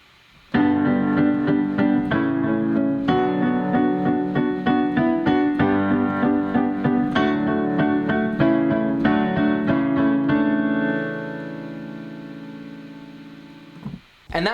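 Piano performance of a song with both hands, the left hand adding low bass under a steady right-hand beat of chords, close and full, ending on a sustained fading chord.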